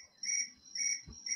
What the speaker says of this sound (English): I love that ring. It's a cricket.